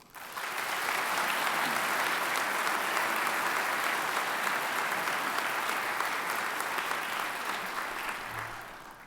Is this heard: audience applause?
yes